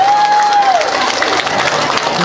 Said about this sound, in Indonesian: Tepuk tangan buat Senam Pera.